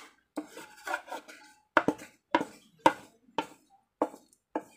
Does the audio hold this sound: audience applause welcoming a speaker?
no